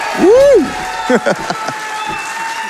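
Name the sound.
crowd cheering at charity speedrun event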